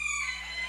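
A rooster crowing during a morning prayer outdoors, a single close, loud crow with clear harmonic tones filling the short moment, no talking over it.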